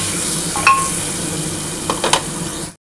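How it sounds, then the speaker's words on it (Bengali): Tomato-based spice paste sautéing in a pan for chicken curry, a steady close sizzle with a few scraping stirs near the start and again toward the end, then abrupt silence. "ভালো করে কষিয়ে নিই।"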